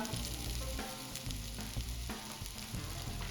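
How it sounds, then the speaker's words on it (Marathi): Grated fresh coconut sautéing in ghee along with roasted dry fruits, a steady loud sizzle and crackle with soft stirring scrapes throughout, no voices. "आपल्याला हा किस पण छान परतून घ्यायचा आहे"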